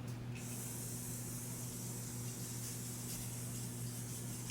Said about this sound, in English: I absolutely love the setting spray, but I am out.